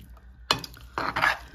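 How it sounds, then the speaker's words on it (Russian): A spoon scrapes and stirs through a heavy potato salad with thick mayonnaise in a pot, giving two short bursts of clattering, squelching mixing close by, with no talk. "снизу главное перемешать вот картофель внизу"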